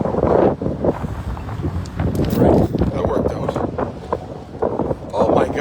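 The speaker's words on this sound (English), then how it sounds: "wind is supposed to die down here" Strong wind buffets and roars across the microphone on a bicycle ride, steady and loud throughout with gusty surges.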